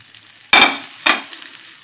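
A flour-free, yeast-free pizza sizzles in a hot pan as it is flipped, giving two sharp bursts of frying hiss a half second apart, each fading quickly, loud and close with no talking.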